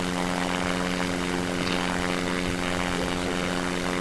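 Simulated plane engine in the video game Simple Planes, rolling along a runway: a steady, loud propeller-like drone with stable harmonic tones throughout, with no talking.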